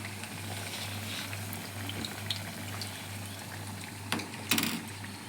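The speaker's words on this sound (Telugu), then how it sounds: "వేగటానికి వరిపిండి కదా, ఇందులో కూరగాయలు కూడా ఉన్నాయి కదా, అందుకని కొంచెం ఫ్రై అవటానికి టైం పడుతుంది అన్నమాట." Rice flour vegetable fritters (garelu) frying in oil, a soft, steady bubbling with a low hum beneath and a brief louder crackle near the end, with no speech.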